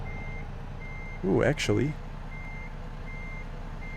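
Reversing beeps from a truck in American Truck Simulator, a steady series of evenly spaced high beeps running through the clip under a constant engine drone, with a man's brief exclamation in the middle.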